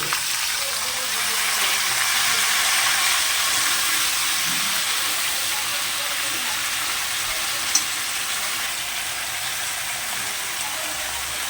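Drumstick pieces fry with potatoes in a pan of hot oil, making a continuous loud sizzle and hiss that swells slightly early on, with one brief clink late in the clip.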